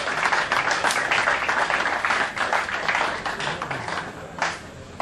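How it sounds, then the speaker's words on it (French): Guests at a 50th anniversary party clap for a sponsoring couple, a dense, steady burst of applause that fades slightly toward the end. "Je vous demande d'applaudir pour le couple parrain."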